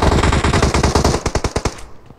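Rapid automatic gunfire in a first-person shooter video game: loud, close bursts of closely spaced shots that rattle on for about two seconds, then stop abruptly.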